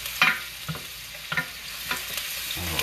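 Onions fry in a pan with a soft, continuous sizzle, broken by a few light stirring scrapes and taps at fairly even intervals, moderately close and low in level.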